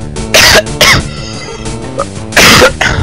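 A person with a cold coughing loudly and close up, several sharp harsh bursts in quick succession separated by short pauses.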